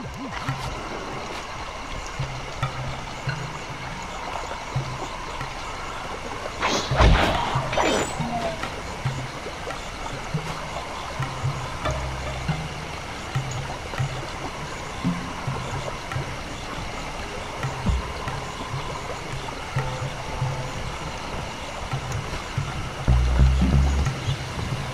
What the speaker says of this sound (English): there should be a hidden passage into the temple behind that waterfall